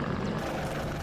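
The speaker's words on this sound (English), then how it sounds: "OH-58D coming in here. This is a recon helicopter" An OH-58D reconnaissance helicopter in the wartime strategy game WARNO makes a loud, steady rotor and engine drone as it passes low and close overhead.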